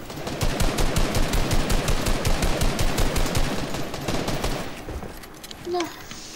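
Rapid automatic gunfire from the Fortnite video game, a dense continuous stream of loud shots lasting about five seconds before fading out, with a brief voice near the end.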